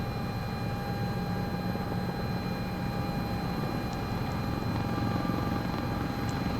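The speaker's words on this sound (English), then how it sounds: "let us bring the helicopter down" A helicopter in Microsoft Flight Simulator 2024, the CowanSim model, gives a steady, moderately loud rotor and engine drone with a constant whine, running evenly throughout with no talk.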